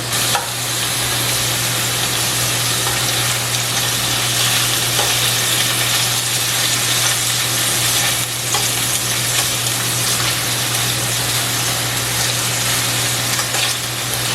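Sausages browning in a pan make a loud, steady, close sizzle throughout, with a constant frying hiss and a low hum beneath, and no talking.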